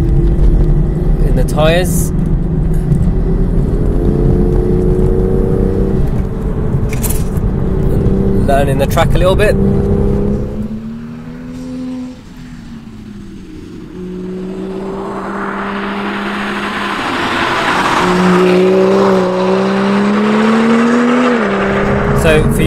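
A BMW M2 GTS race car driven on a track, its engine droning loud and steady with rising and falling revs as it accelerates and shifts, heard from inside the car under a driver talking throughout.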